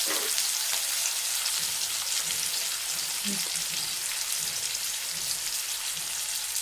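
Onions and lengthwise-cut green chillies fry steadily in a pan, browning, with a constant close sizzling hiss and scattered soft pops throughout.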